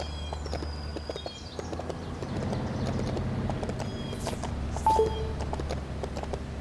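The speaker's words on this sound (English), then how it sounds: "sit back and enjoy this little horse ride" Horse hoofbeats in the Lego City Undercover video game, a steady clip-clop gait continuing through the clip over low background game music, with a couple of brief higher chirps.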